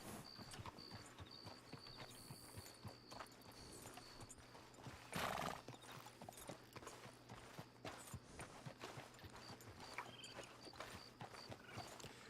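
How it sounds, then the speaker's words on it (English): Horse hooves walking in Red Dead Redemption 2 on a moonlit night, a steady clip-clop of hoofbeats at a relaxed pace, fairly faint, with a brief snort or whinny midway. "that's why I like walking my horse sometimes"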